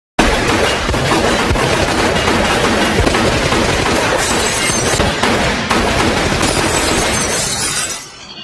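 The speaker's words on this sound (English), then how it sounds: "he is suddenly attacked by a barrage of gunfire from outside" Gunfire rakes a house in a scene from The Godfather, a sustained loud barrage of rapid shots mixed with shattering glass and breaking debris, continuing almost without pause before cutting off abruptly.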